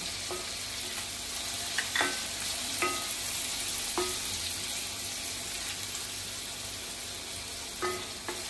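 Curry leaves hit hot oil in a pan for vermicelli upma, giving a steady close sizzle with a few sharp spattering pops and light stirring scrapes throughout.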